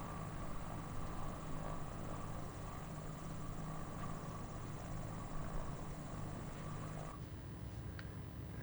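Propeller aircraft engine in a flight video game, a steady droning hum with constant rhythm throughout, a slight shift in tone near the end; no talking.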